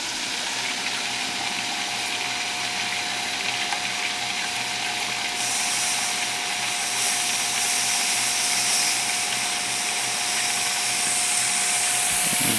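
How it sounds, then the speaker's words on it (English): Steam hisses steadily from a barely cracked valve on a pressure cooker cooking chicken, a constant broadband hiss that grows slightly brighter and louder partway through. "We're going to just barely crack this valve."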